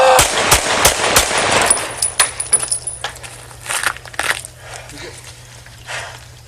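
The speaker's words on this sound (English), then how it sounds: "Shots fired." Gunshots fired at police during an encounter with a fleeing caller: a rapid burst of sharp, loud, close cracks, followed by a few scattered single shots that fade into quieter background noise.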